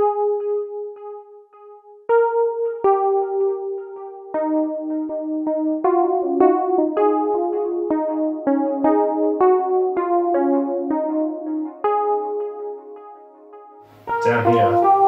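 Two layered u-he Zebra 2 software synth melodies weave together as soft, sustained tonal lines with gradually shifting notes, fairly loud and alone, ending in a sudden burst of brighter, noisier sound.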